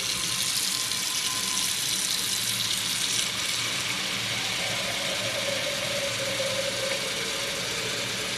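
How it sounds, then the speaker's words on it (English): A kitchen tap fills a pot with water in a steady, loud, unbroken hiss and splash that holds its level throughout, with no voices. "Fill the pot with water."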